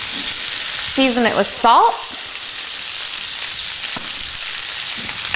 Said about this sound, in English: Drop in the asparagus. Toss it in the olive oil.